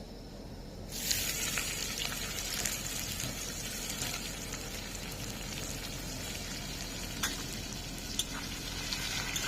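Onions sizzle steadily in hot mutton fat after eggs have been fried, a loud, close, continuous hiss that starts abruptly about a second in, with scattered sharper pops throughout.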